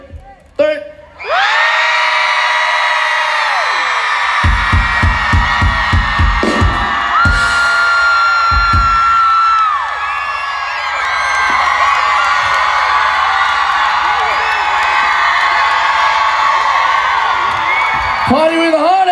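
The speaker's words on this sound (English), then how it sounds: "Everybody scream as loud as you can." A large concert crowd screams as loud as it can, a sustained roaring wall of shrieks and yells lasting many seconds with sharp claps or thumps partway through, loud and close, then fading into scattered cheering.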